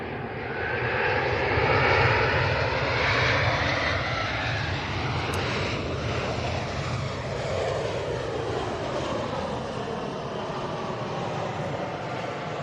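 A jet airliner arrives at Manchester Airport, a loud, sustained roar of engines that swells early and then holds as a broad, rumbling whoosh, heard from nearby outdoors with no talk.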